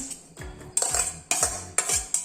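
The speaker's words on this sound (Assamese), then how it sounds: "লৈ ইয়াতে গ্ৰেট কৰা বেঙেনাখিনি মিলাইছো" Grated eggplant being mixed in a bowl, about five quick scraping and tapping strokes of a utensil against the bowl in a brisk rhythm, close and clear with no talking.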